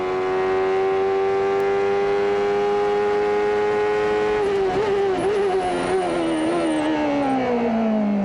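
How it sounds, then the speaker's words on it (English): Onboard a Rahal-Hogan CART race car at Portland in 1993, a loud, steady engine note holds, then drops through several quick downshifts with blips as the car brakes into a corner. "we can get an idea of the gear changes"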